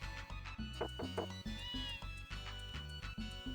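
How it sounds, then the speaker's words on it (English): A cat meows several times in the 16-bit role-playing game Tales of Phantasia. The short, faint calls sit over steady game music. "Cat?"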